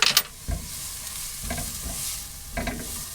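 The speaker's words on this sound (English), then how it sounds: "let's give this a stir" Food stirred in a cooking pot with ginger nearby, a spoon scraping and clattering in short bursts roughly every second over a continuous low sizzle, close up with no talking.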